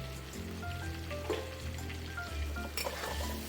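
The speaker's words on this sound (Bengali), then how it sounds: "এবার একটু নুন আর হলুদ দিয়ে কুমড়োগুলোকে ভালো করে ভেজে নেব" Pumpkin pieces sizzling in a pan with turmeric and salt for a home-style Bengali khichuri, a steady close frying hiss with occasional stirring scrapes and clinks.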